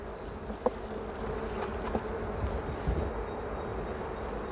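A dense, steady hum of many honey bees buzzing together in an open hive during inspection, with occasional soft knocks and taps close by.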